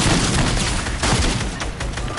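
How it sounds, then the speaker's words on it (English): Lever-action shotgun fire in a video game, repeated heavy booming shots in a dense close-range barrage with little pause between them. "All I'm hearing is lever action shotguns."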